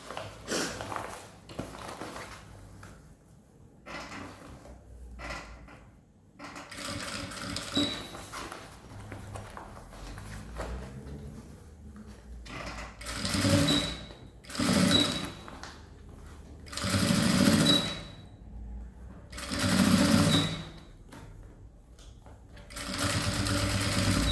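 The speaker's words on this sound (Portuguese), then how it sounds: "Só vem engatando, ó, e vai costurando." A sewing machine stitches a zippered toiletry bag in bursts, running in several short rhythmic runs of whirring and clatter separated by brief pauses, close and clear with no talking.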